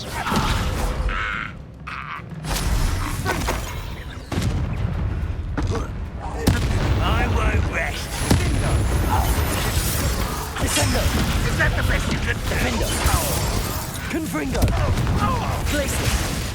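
Spell-casting effects in the PS5 game Hogwarts Legacy, a dense run of loud bursts, blasts and crackling impacts in quick succession, with a voice calling out incantations between them.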